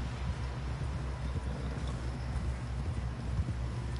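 Horse hooves clip-clopping in Red Dead Redemption 2, a steady continuous trot over a low rumbling game background with no talk.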